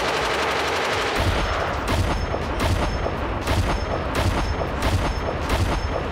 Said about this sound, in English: we're gonna go belt-fed machine gun now